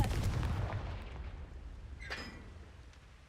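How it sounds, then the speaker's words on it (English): A Confringo fire spell in Hogwarts Legacy lands as a heavy blast, loud at first and then rumbling away, with a short bright crackle partway through the tail. "Confringo"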